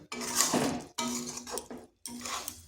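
A metal lid set onto a pot of vermicelli, with three short bursts of clanking and clinking metal, close and fairly quiet, separated by brief silences.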